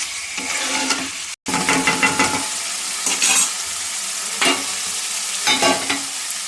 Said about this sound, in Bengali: এবার আমি মাংসটা কষতে থাকবো যতক্ষণ না মাংসটা সেদ্ধ না হয়।